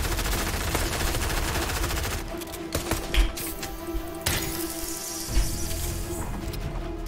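Fortnite gameplay with sharp gunshots cracking over a steady game soundscape, including a quick burst early on and single loud shots spaced a second or two apart.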